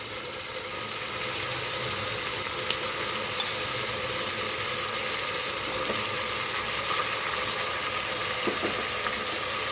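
Brinjal pieces dropped into a hot pan of oil with turmeric and salt while cooking vangi bath, giving a steady, even sizzle that hisses on throughout, with a few faint clinks.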